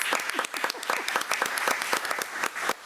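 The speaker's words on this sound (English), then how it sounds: "let's give Ms. Denise Wright Johnson another round of applause" Applause at a committee-of-the-whole board meeting, honoring a staff member: a steady patter of many hands clapping for about three seconds, fairly close and dense, with no talk over it.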